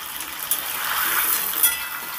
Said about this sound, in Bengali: আমি কিছুটা চিকেন দিয়ে দিলাম কড়াইতে। এরপর আমি নেড়েচেড়ে একটু ভেজে নেব।